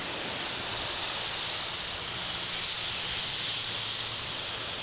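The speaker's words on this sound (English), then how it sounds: "It sure feels like a 25-degree nozzle." A pressure washer fitted with a 25-degree nozzle rinses bugs off the front of a car, giving a steady, close, unbroken hiss of spray that holds at an even level throughout.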